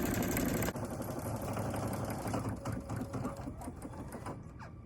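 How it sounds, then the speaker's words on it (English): An embroidery sewing machine stitching the last part of a design, a rapid steady mechanical whirr and needle chatter that stays close and continuous. "I'm going to stitch the last part of the design"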